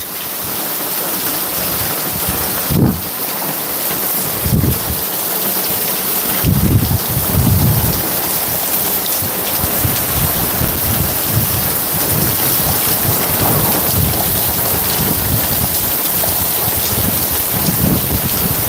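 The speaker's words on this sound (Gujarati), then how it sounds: "ઉપર વીજળીના કડાકા અને ભડાકા પણ થાય છે" Heavy rain pours steadily at night with a constant loud hiss, broken by several deep rumbling thunderclaps early on and gusts buffeting the microphone.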